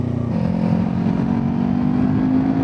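Kawasaki Ninja 400 motorbike at full throttle, a loud close engine note climbing steadily in pitch under hard acceleration for a couple of seconds.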